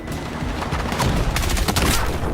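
Rapid gunfire in Battlefield 6 gameplay, a dense continuous burst of loud automatic shots and booms.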